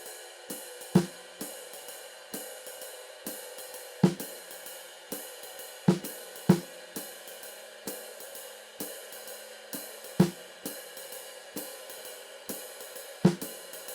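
Jazz drum comping plays a steady swinging ride cymbal pattern with light hi-hat, while soft snare accents fall at varied points, about two per bar, in an even, unaccompanied groove.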